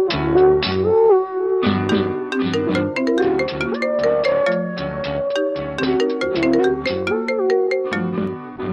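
A mobile phone ringtone for an incoming call plays loud and close in a Telugu village comedy. The bright melodic tune repeats continuously for about nine seconds with no voices over it.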